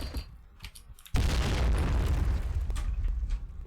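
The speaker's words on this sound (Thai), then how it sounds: "ระเบิดปลามา1ลูกแตกแล้ว" A fish bomb goes off in the shooter game Point Blank during a clan-war match. After about a second of quieter game noise, a sudden loud blast erupts into a sustained, rumbling roar that slowly fades.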